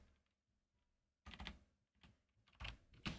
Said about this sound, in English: I'm getting used to my new keyboard that I just got today.